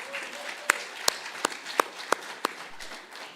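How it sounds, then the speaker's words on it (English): At a meeting of women parliamentarians, a handful of distinct, evenly spaced claps ring out over quiet room noise, sparse and moderately close. "Another round of applause for Honorable Fennes."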